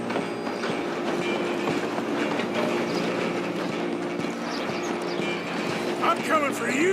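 Train running on rails in Red Dead Redemption 2, a steady rolling rumble with rhythmic clickety-clack and hoofbeat-like clatter, continuous at moderate loudness, with shouting voices over it near the end.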